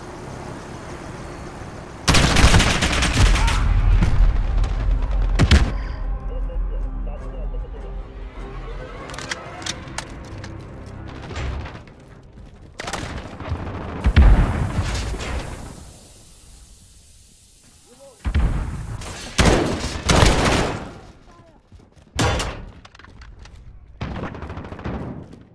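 Bursts of gunfire in a team deathmatch of Call of Duty: Modern Warfare on PC, loud sharp volleys with gaps between, quieter stretches of game ambience and brief in-game voice callouts.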